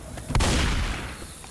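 A pipe bomb blasts in Left 4 Dead 2, one heavy booming explosion with a sharp onset and a long rumbling decay, loud and close, after a couple of faint gunshot cracks.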